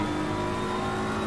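A BMW race car in a racing video game accelerates steadily down a long straight at a wet Monza, its engine a continuous loud, even drone from start to finish with no voices.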